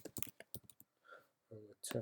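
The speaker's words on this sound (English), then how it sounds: "We can do that just by typing the search." A quick burst of keyboard keys clicks close by, a short run of taps, with a brief faint voice near the end.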